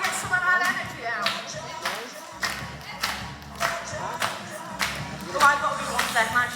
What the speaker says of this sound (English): Shall we start with the clap?